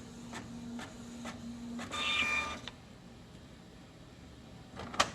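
Printer feeding paper while printing a job sent from an Android phone over a WiFi hotspot: repeated soft mechanical clicks and a low motor hum, with a brief louder whirring feed pass midway and a quick burst of clicks near the end.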